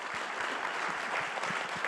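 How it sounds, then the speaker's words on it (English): A crowd claps steadily for a drum group at the White House Tribal Nations Summit, a dense wash of applause with no voices standing out. "Let's give them another round of applause"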